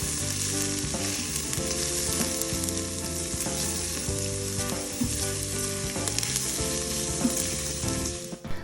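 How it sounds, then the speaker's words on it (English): Vegetables sauté in an Instant Pot ahead of an oxtail recipe, a loud continuous sizzle and crackle of frying with occasional stirring clinks, close up and steady throughout. "we're just gonna cook these until they sweat out and get a nice little saute on them"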